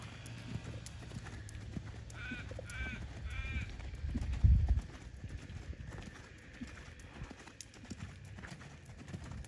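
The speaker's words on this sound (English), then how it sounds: "we're going to do one more canter this way, Jaylena." A horse canters during a riding lesson, its hooves clip-clopping in a steady rhythmic beat at moderate distance, with a few thuds louder in the middle, a brief whinny-like call early on and an instructor's voice intermittently.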